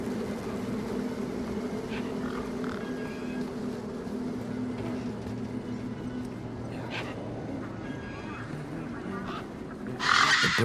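Honking, goose-like bird calls in the video game Beyond a Steel Sky, heard as intermittent cries over a steady low ambient hum, with a louder noisy burst near the end.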